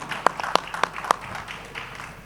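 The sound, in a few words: audience applause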